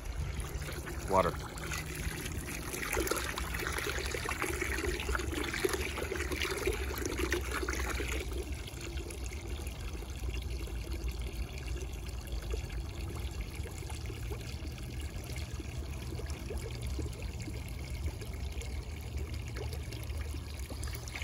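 Water pouring steadily into a plastic bucket to mix sugar syrup for a homemade bee feeder, a continuous trickling stream that changes tone partway through as the bucket fills, close and moderately loud.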